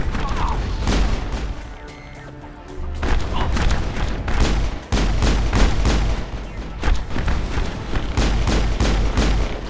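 Gunfire in the video game Mass Effect: rapid, loud bursts of weapon shots repeat through the fight, with a short lull before heavier volleys resume.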